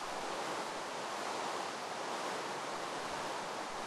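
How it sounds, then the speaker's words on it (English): Minecraft ocean waves, a steady, even wash of surf noise holding at a constant moderate level throughout, with no voices. "Here's the ocean."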